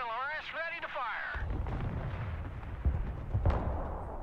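MLRS rocket artillery in the modern warfare game Broken Arrow fires a burst of heavy booming launches and rumbling blasts after a brief warbling radio-like tone. A voice talks over parts of it.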